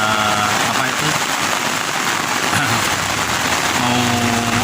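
Heavy afternoon rain falling steadily over a village after the rice harvest, a dense continuous hiss close to the microphone with faint voices and activity mixed underneath.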